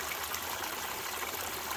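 Water runs off a lid and drips from a bucket flare into a Gold Cube gold-prospecting concentrator, a steady close trickle and splash with no pauses.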